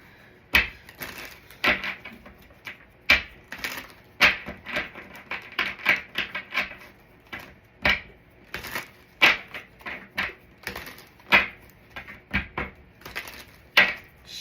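Tarot cards being shuffled by hand, a string of crisp riffling bursts and soft slaps repeating irregularly for several seconds, close and clear with no talking.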